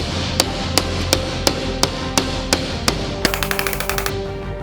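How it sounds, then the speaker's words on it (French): A hammer strikes a car window in a safety test, giving about nine evenly spaced sharp taps followed by a quick rattling flurry of hits, loud, close and with no voices. "Un petit coup au marteau."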